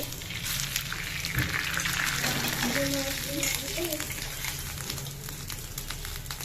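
Cumin seeds and bay leaves sizzling in hot ghee in a home kitchen, a steady crackling fry with faint popping throughout and a brief tonal clink partway, while a person talks over it.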